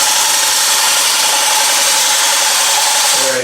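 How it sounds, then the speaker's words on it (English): Wood turning on a lathe as a skew chisel cuts in, a loud, dense continuous whirring hiss that holds steady and drops off near the end, with no voices. "let me just cut in here with the skew"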